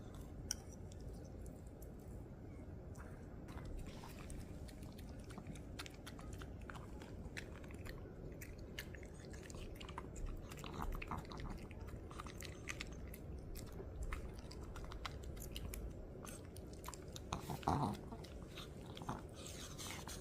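A dog chews and bites on a snack with a peel or rind, giving steady close crunching and clicking through most of the stretch, plus a few louder bites near the end.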